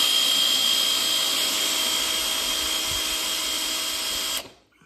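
A mortice drill bores through wood along a template guide, a loud steady high-pitched whine with a constant tone that runs unbroken for over four seconds, then cuts off abruptly near the end.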